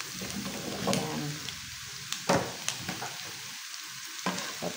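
Squash and okra sizzle in a hot pan for pork pakbet, a steady frying hiss broken by a few sharp scraping clatters as a utensil stirs the vegetables, close and moderately loud, with no talking.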